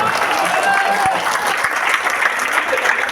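Audience applause at a direct selling business meeting: a crowd clapping steadily and briskly for about three seconds, fairly loud, with a faint voice briefly heard underneath.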